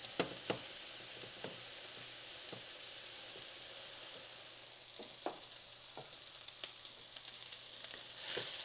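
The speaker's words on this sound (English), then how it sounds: "You want to keep breaking up the meat" Ground meat fries in a pan with a soft, steady sizzle while a spoon breaks it up, producing scattered taps and scrapes against the pan, close and fairly quiet.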